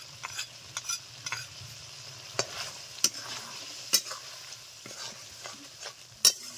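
Cumin paste fries in a pan with a soft continuous sizzle, broken by sharp utensil scrapes and taps against the pan at irregular intervals.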